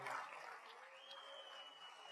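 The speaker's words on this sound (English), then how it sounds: "a round of applause for all those that went into the hall tonight" An audience applauds at a college athletic hall of fame induction ceremony, a quiet, distant patter of clapping with a faint tone running through it.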